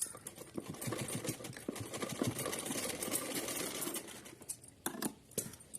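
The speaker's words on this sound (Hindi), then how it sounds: "उल्टी साइड पकड़ के एक सीधी सिलाई लगानी है" A sewing machine runs a straight stitch through cotton fabric for a doll outfit, producing a fast, steady mechanical patter that stops and restarts briefly near the end, close and fairly quiet.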